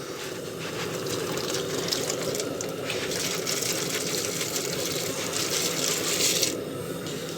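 Soapnut (reetha) peels tipped into water in a 20-litre drum, a continuous close rustling, splashing wash with small patters and trickles, fairly quiet.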